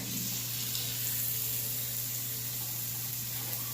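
Steady sizzling hiss of pork frying in a hot pan, continuous and fairly close, with a low hum underneath and no talking.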